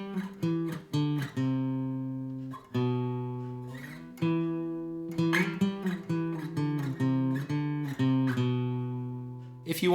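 An electric guitar plays two beginner riffs slowly back to back, single notes and short phrases picked one after another with sustained ringing tones, clear and close with no talking.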